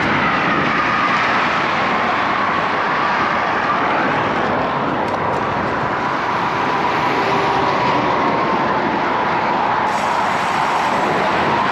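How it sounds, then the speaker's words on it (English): Steady rumbling roar of a distant train near Lake Houston, with a long tonal hum running through it and a faint rhythmic clatter; no speech. "Hear a train in the distance."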